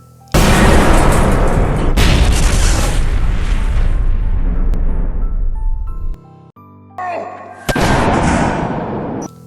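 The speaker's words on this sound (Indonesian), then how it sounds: "Dari jendela basement, FBI melempar granat ke arah mereka." A thrown grenade detonates in a dramatized standoff, a loud booming blast with a long rumbling decay that fades out, followed by a few sharper bangs, no talk over it.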